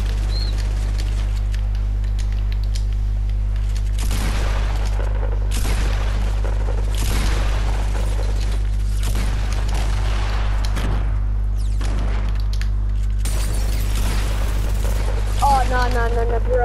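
Rapid bursts of gunfire and booms from a new gun in a video game, repeated loud volleys in clusters, layered under a constant low hum with players talking over the shots.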